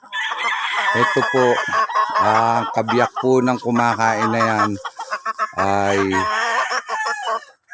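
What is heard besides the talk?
stags (young fighting roosters) crowing and clucking on a farm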